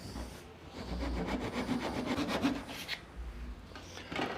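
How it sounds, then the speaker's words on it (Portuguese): A rasp files a wooden box with steady, quiet rubbing strokes in a close workshop setting. The gritty scraping rises and falls with each pass, and there is no talk over it. "Vai passando a grosa e vai olhando, vai conferindo."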